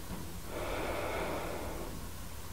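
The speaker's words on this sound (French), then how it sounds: "Vous allez commencer par prendre vos respirations par le nez" Slow, deep breaths drawn in through the nose during a relaxing yin yoga session, a soft, close airy rush swelling and fading over a couple of seconds with no talking.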